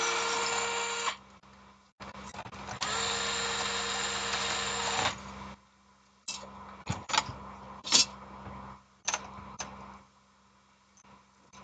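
A power drill drives screws during a repair, with several bursts of high, steady whirring, two long runs and shorter pulses, separated by pauses with faint clicks and handling noise.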